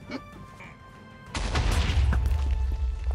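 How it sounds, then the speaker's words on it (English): Sudden loud booming blasts in Minecraft during a pillager raid on a medieval fortress, a dense burst of crashing explosions that breaks in after a quiet stretch and keeps rumbling to the end. "Some major explosions just went off"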